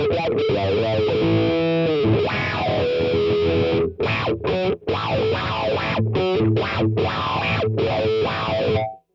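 Distorted electric guitar runs through an auto wah effect pedal set toward the high range, with filter sweeps on each attack over sustained riffs and choppy stabs, loud and continuous with no talking.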